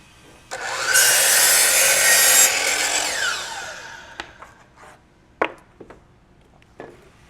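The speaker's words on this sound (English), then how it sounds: "Now I'll cut the return miter off of a full piece of trim." A saw cuts a return miter off a length of wood stair trim, a loud continuous rasp lasting about two seconds, followed by a few sharp knocks and clatters of the trim being handled nearby.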